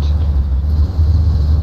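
A Chevy Kodiak truck driving in a video game, its engine a steady, loud low rumble with little variation across the moment.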